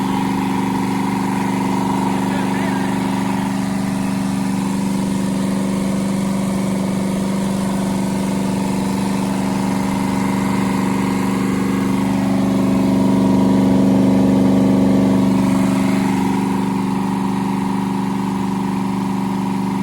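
A Ford 289 V8 running steadily on its first start, with a deep, even engine drone that rises slightly in loudness near the end, heard alone without talk.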